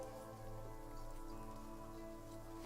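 Rain falls in a steady, even patter on a surface, faint and continuous with no pauses, under a low constant hum.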